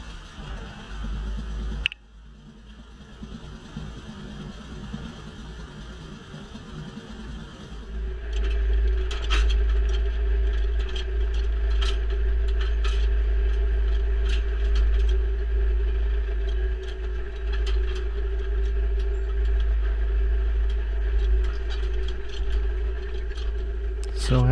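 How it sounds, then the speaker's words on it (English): A silage blower is unplugged from a wagon during silage harvest: a steady loud engine and machinery drone with a low hum, a sharp knock near the start, then the noise grows louder and fuller with mechanical rattles and clanks. "here's a little clip of the blower being unplugged"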